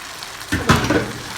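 Chicken in a cream marinade with potatoes frying in a pan, a short close burst of sizzling and stirring that swells and then settles into a steady hiss.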